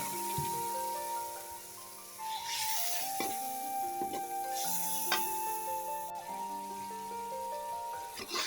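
Spice paste of ground masala, onion, garlic, ginger, turmeric, chili and coriander powder with a splash of water, frying in oil in a pan for a snakehead fish curry with green tomato, sizzling steadily and closely with soft stirring scrapes throughout.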